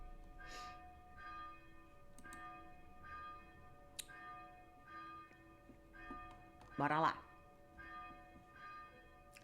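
Church bell tolling in the distance, several faint evenly spaced strokes with a sustained hum between them, and a voice speaks briefly near the end.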